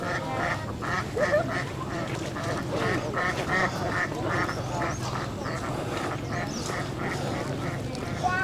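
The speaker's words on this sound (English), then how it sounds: "With the little ducks frolicking over there with the alligators." Ducks quack repeatedly by a river in Ninh Binh, Vietnam, a steady rhythm of nasal calls from several birds at moderate distance over quiet outdoor ambience.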